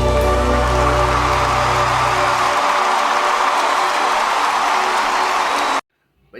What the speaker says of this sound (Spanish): ese aplauso al Señor